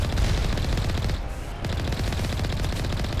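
Rapid vehicle cannon fire in the video game Mass Effect, a loud, continuous stream of shots that breaks off briefly before resuming.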